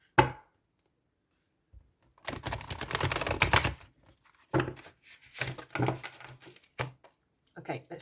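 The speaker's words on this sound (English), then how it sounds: "let's do a couple more shuffles" A Lorenzi tarot deck is shuffled by hand, with a burst of rapid riffling card flutter followed by several short flicks and taps, close and fairly quiet, amid brief pauses.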